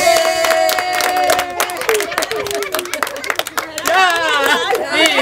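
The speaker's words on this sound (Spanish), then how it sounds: "¡Un aplauso!" Audience clapping and cheering at a film festival greeting, with dense, fast clapping throughout and voices calling out loudly over it.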